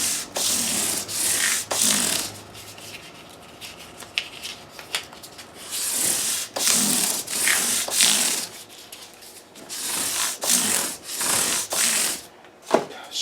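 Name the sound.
sanding a Les Paul guitar nut with 600-grit sandpaper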